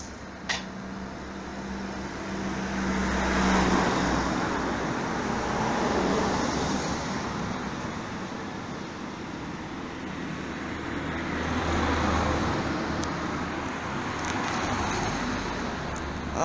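Street traffic in Grasse with many cars passing, a continuous low rumble of road noise that swells and fades as vehicles go by at moderate distance.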